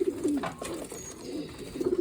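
Breeding pigeons coo close by in soft, throaty rolling calls, a few repeated phrases with faint background noise.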